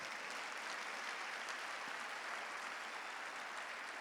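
A congregation at a Sunday church service applauds, heard as a faint, distant, steady wash of clapping with no clear individual claps, alone without talk.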